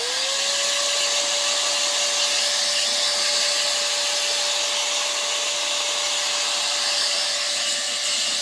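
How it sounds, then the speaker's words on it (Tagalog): A handheld hair blow dryer runs continuously at close range, a loud even airy roar with a steady motor whine, used to dry hair at home after a salon-style treatment. "I-blower muna natin,"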